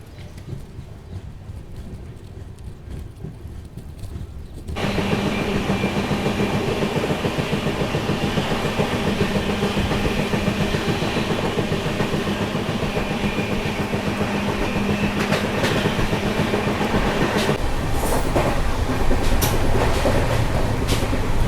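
A train with LHB coaches arrives at Karatagi railway station. Quiet at first, then a loud, sustained rumble of wheels and carriage noise sets in suddenly and carries on close by, with bright squeal-like bursts toward the end.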